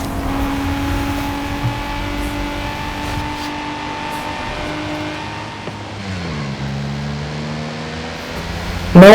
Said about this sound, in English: And this car sounds even better.